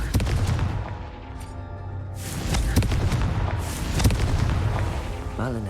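A Confringo blasting spell in Hogwarts Legacy, heard as a series of sharp explosive bursts and booms with crackling debris, close and loud, with a voice speaking briefly.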